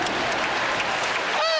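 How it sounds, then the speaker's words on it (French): An audience applauding itself, dense steady clapping from many hands that fills the whole brief moment and stops abruptly near the end, close and loud. "Est-ce qu'on peut s'applaudir?"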